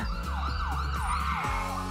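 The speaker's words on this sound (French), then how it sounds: "La seule chose qui manque, c'est une sirène." A loud wailing ambulance siren sweeps up and down repeatedly over a low engine rumble, close and continuous.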